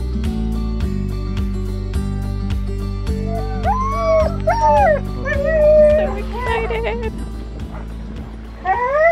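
Sled dogs at a dog sledding outfit in Banff, Canada bark, yip and howl in an excited chorus. A steady low drone runs underneath throughout.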